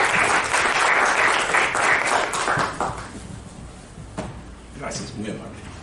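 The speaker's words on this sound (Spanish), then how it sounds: "Fuerte el aplauso para recibir al maestro Vicente Romero Said" Audience applause in a lecture hall welcoming a speaker at a financial statements analysis course, a loud dense crowd of clapping in the first seconds that thins out and fades, with a few scattered claps and room noise after.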